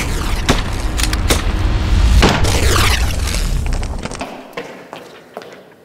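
Fragmentation rounds fire and burst in a game, several sharp cracks followed by a heavy, rumbling boom that rolls on for a few seconds before dying away.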